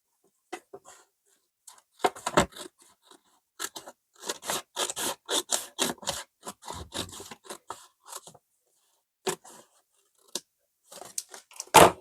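Scissors cut along a line of a sheet of A4 paper, making irregular bursts of crisp snips and scrapes, close and fairly loud, with short pauses between runs of cuts.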